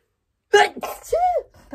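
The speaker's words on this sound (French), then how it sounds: "Faut que j'éternue." A single sneeze breaks out close by in a quiet indoor room, followed by a short breathy gasp and brief vocal sounds.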